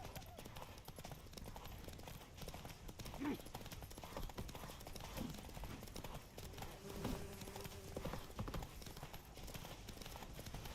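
Roach, Geralt's horse in the video game The Witcher 3, gallops with a rapid, rolling patter of hooves, close and sustained for the whole stretch, accompanied by rumbling movement and occasional muffled voices.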